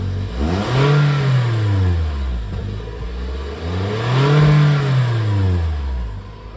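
Toyota Corolla E210 hatchback on its stock exhaust revved twice, each rev climbing in pitch then falling back, loud and close with no talking.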